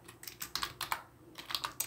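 Rapid keystrokes on a computer keyboard as Arduino code for a servo and potentiometer project is typed, a close, uneven run of light clicks with a brief pause midway, no voices.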